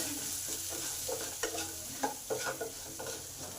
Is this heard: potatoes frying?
yes